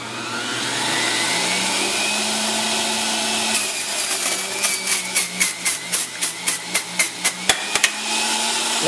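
A juicer machine runs while making green juice with celery and chard, a steady motor drone starting up, then a series of rhythmic crunching pulses as produce is fed through.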